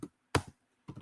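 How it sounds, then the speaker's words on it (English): A few quick keystrokes clack on a computer keyboard, close and clear, in short bursts separated by silence. "I'm gonna type in now."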